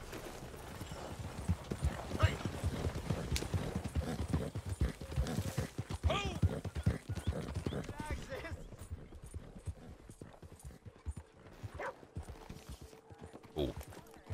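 Steady clip-clop of horse hooves at a trot in Red Dead Redemption 2 Online, rhythmic and fairly close, running beneath continuous talking and game background sounds.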